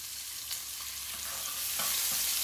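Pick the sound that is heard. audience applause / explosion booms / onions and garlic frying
onions and garlic frying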